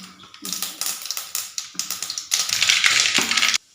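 Mustard seeds crackling and popping in hot oil for a homemade pickle, a rapid run of sharp, close pops that thickens into a dense sizzle before stopping abruptly.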